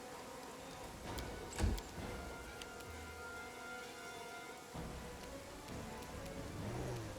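Steady rain falling in a video game, a soft continuous patter and hiss with a few faint ticks, quiet and even throughout with no talking.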